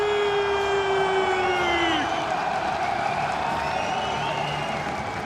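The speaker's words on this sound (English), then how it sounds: "Un tonnerre d'applaudissements, s'il vous plaît, pour les Fnatic" Arena crowd applauding and cheering for Fnatic at the 2018 MSI semifinal, a steady wash of clapping and crowd noise under sweeping electronic tones that swell and fade across the few seconds.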